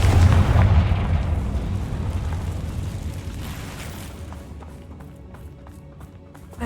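A Confringo fire spell blasts in Hogwarts Legacy, a loud booming explosion at the start that rumbles and decays slowly over several seconds, with faint clicks near the end.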